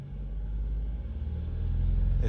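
A 2021 VW Polo 1.0 TSI engine idles and rises into a rev, a close low rumble that builds steadily in loudness with a pulsing throb.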